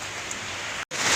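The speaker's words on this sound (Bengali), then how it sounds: "এদিক থেকে আবার ওই দিক থেকে পানি পড়তেছে দেখেন" Rain pours outside while water leaks into a house, a close, dense hiss of falling water that cuts out for an instant and then returns slightly louder.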